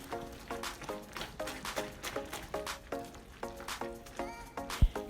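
A hot candy apple sugar mixture with white coloring stirred in a pot, a soft rhythmic scraping and bubbling repeated about a dozen times, close and fairly quiet.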